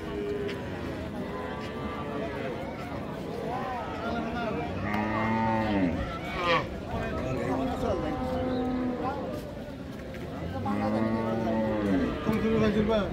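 Friesian cows and calves moo repeatedly at the Raniganj cattle market in Dinajpur, long drawn-out lowing calls that overlap one another, with people talking throughout the busy livestock trading.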